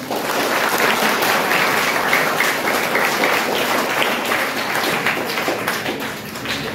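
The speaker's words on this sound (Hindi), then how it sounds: "तो मैं चाहता हूं कि आप अपने सभी शिक्षक और शिक्षिकाओं के कार्य के लिए, उनके सम्मान और आदर के लिए एक बार जोरदार तालियां बजाएं।" A school audience at a Teachers' Day function at a boys' high school claps loudly for its teachers in steady, dense applause that holds throughout and eases off slightly at the close.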